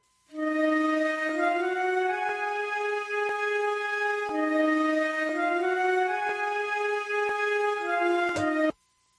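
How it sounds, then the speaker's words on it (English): An orchestral woodwind section sample from the Opus library plays sustained, layered chords that shift through several changes, steady and full in volume, heard alone and ending abruptly after about nine seconds. "the woodwinds section is from Opus"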